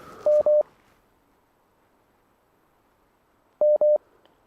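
Telephone line tones on a call-in radio show: two pairs of short, loud electronic beeps, one pair at the start and one near the end, separated by a quiet stretch of faint line hiss.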